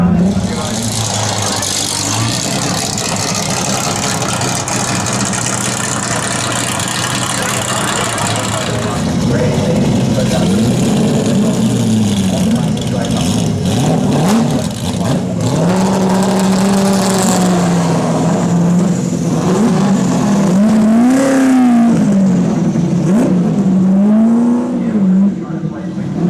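Race cars in a Group A Trophy Race drive on a track, engines droning loud and continuous with rising and falling revs as cars pass, while a voice talks over the noise.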